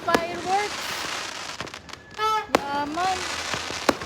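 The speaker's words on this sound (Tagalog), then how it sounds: "Grabe oh, ang ganda ng mga fireworks niya." New Year fireworks exploding outdoors, sharp cracking bangs scattered irregularly with whistling rising streaks between them, fairly near, while people talk throughout.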